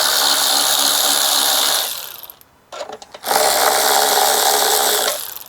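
Buzzing power ratchet spinning out 10mm bolts on a 2007 Honda Accord with a 2.4L engine, two loud close bursts separated by a short pause with faint clicks and handling noise.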